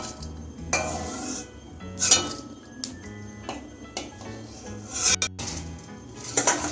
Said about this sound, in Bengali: একটা জারার সাহায্যে আমি তেলটা ঝরিয়ে তুলে নিচ্ছি।